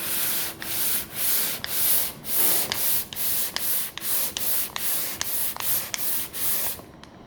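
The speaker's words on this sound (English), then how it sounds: "that's the sort of stuff that the pole sander gets off." A pole sander works over a wall being prepared for painting, giving a steady series of about a dozen rhythmic abrasive strokes, each a broad hissing rasp, close and loud, with no voices.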